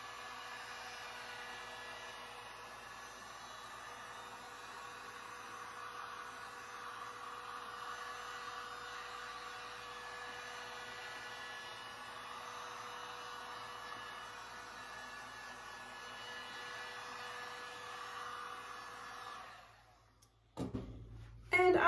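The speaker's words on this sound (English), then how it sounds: "I'm going to heat it up with my heat gun." A heat gun warms a clear coat on an abstract art piece, its steady, even blowing roar running close and constant for about twenty seconds before cutting off, followed by a few handling clicks.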